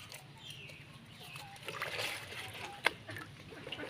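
Taro stalks and leaves being washed in water, giving soft, low sloshing and splashing with one sharp splash near the end, fairly quiet and close.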